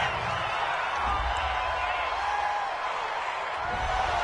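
A stadium crowd in an American football video game reacts to a roughing-the-passer penalty, producing a loud, steady, unbroken roar that runs throughout.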